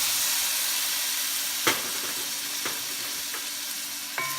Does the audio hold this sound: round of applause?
no